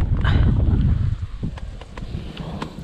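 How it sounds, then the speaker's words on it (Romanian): Gusty wind buffets a phone's microphone beside a lake where people are carp fishing, producing a loud, close, low rumbling roar that is heaviest at first and then eases into softer, fluttering noise. "bate vântul fix în telefonul meu"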